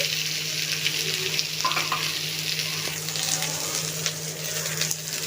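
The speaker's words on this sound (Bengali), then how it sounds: "এর মধ্যে এবার আমি পেঁয়াজগুলো দিয়ে দিচ্ছি" Sliced onions frying in a small amount of oil for an egg, potato and pea curry, giving a steady close sizzle with light stirring scrapes throughout, no talk over it.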